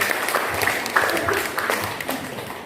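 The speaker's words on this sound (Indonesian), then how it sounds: "tepuk tangan buat kita semua" Applause from a school audience at a teachers' gathering, a dense wash of many hands clapping steadily for a few seconds, fairly loud and close.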